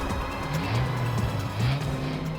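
A car turns around on a road, its engine droning with a drawn-out tire squeal rising and falling, loud and close.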